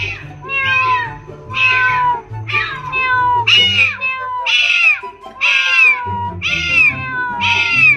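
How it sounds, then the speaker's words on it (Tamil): Two cats fighting outdoors in the evening, caterwauling in a run of long, rising and falling yowls repeated about eight times over a low rumbling background. "ரெண்டு பூனைக்கு சண்டை நடந்துகிட்டு இருந்தா"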